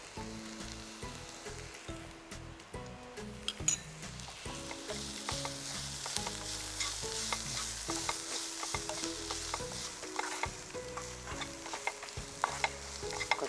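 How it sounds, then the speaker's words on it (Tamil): Ground pepper, turmeric, fennel and cinnamon powders sauté in a pan with continuous close sizzling and frequent rhythmic stirring clatter and scraping throughout. No one speaks. "கொஞ்சம் நல்லா வதங்குறது."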